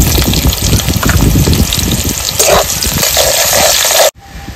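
Chopped onion goes into hot mustard oil tempered with dried chilli and whole cumin for a village-style chicken curry, giving a loud, continuous, close sizzle that cuts off abruptly near the end, with no talk.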